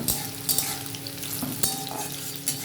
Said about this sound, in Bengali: এইভাবে আমি আলুটা ভেজে নেবো সুন্দর করে